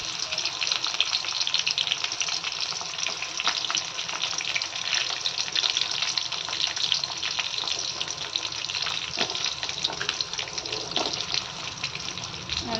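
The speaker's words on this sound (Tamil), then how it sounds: "நல்லா போட்டு வதக்கிக்கிறேங்க சார்" Onions and two green chillies sautéing in hot oil with fennel, cinnamon, cloves and cardamom for a Tamil chicken curry, a dense steady sizzle running throughout with scattered crackles and occasional stirring, close and loud, with no talking.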